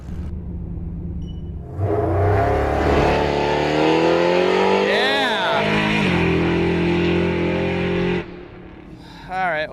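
Nitrous launch of a drag car, a 1967 Pontiac Firebird, with tire spin: a brief idle, then a loud rising engine roar at about two seconds with a sweeping rev, a shift and a sustained howl before easing off near the end, with people talking.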